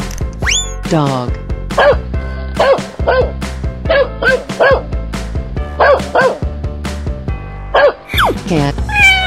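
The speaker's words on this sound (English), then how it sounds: "Dog." A cartoon dog barks in a quick, rhythmic string of bright yips and bow-wows, loud and close, repeating for several seconds.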